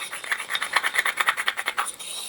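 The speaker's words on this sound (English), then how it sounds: "And then we can just get the pestle and start mixing it all together" Arteza mica powder being ground into watercolour paint with a pestle, giving close, rhythmic gritty rubbing strokes in quick succession, fairly quiet, no voice.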